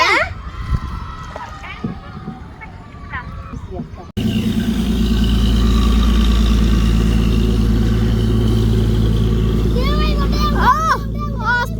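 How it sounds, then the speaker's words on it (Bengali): A sand-carrying trawler boat's engine drones loud and steady at close range, a deep continuous rumble that starts abruptly after a few seconds of talking, with children's voices rising over it near the end. "আমাদের পাশ দিয়ে একটা বালুর ট্রলার চলে গেল"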